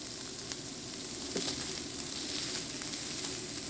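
Burger patties sizzle steadily in a hot frying pan for a home dinner, a continuous close crackling hiss with small spatters and no voices.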